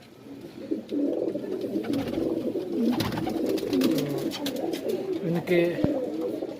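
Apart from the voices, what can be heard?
Madrasi pigeons cooing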